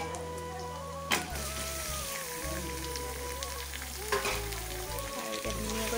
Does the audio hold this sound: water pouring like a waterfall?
no